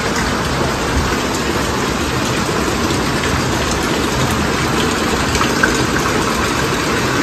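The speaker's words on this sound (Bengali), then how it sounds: "কি বৃষ্টি হচ্ছে।" Heavy rain pours steadily in a broad, loud, unbroken roar during a trip near Jaldapara, with a low engine-like rumble underneath.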